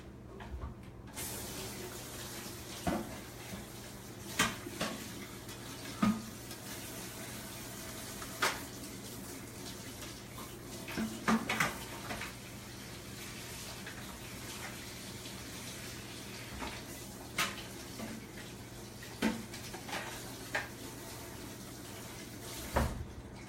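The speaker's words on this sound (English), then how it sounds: "I'm going to just rinse this really fast" Produce rinsed under a running kitchen tap, a continuous soft stream of water with scattered clunks and knocks from handling, quiet and without talk.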